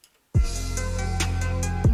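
Intro drums of an electronic music track: a punchy kick and snare hit at the start and again near the end, with sustained synth tones ringing between them, loud and close.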